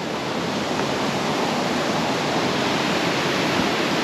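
Multnomah Falls in Oregon's Columbia River Gorge roars steadily from the top of the big waterfall, a loud, continuous broadband rush of falling water with no pauses or voices.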